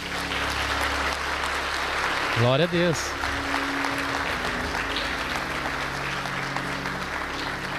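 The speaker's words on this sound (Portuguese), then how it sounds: "Você pode aplaudir a vida deles, gente?" A church congregation breaks into steady applause that fills the room, fading gradually as it runs on, while a voice speaks briefly over the clapping.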